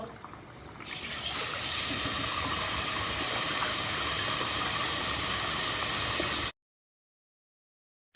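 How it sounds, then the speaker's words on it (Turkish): Cold milk poured into a pot, a steady loud rushing hiss of liquid that runs for several seconds before cutting off abruptly. "Soğuk süt ilave edeceğiz."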